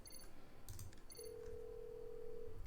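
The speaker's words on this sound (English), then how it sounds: "So Ned, I'm gonna call you" A phone call ringing in a mystery video game, with a steady electronic ring tone sustained for over a second amid brief chime-like game sounds, faint and clean with no talk.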